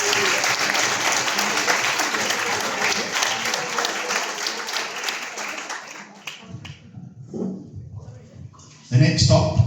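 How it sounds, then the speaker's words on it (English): Audience applause at the BSA Golds Player of the Year awards ceremony, dense clapping filling the hall for several seconds before thinning out into scattered claps and a few voices, then a brief loud burst near the end. "A round of applause."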